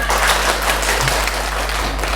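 A classroom of students claps together for a short burst, a steady dense patter over a low electrical hum.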